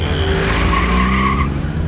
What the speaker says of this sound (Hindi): अन्ना, गाड़ी आगे लो